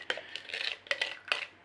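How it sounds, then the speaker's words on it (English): A spoon scrapes leftover sugary mixture out of a dish while rice pudding is being made, giving four quick, close scratchy strokes with short gaps between them. "We might have to scrape out some sugar."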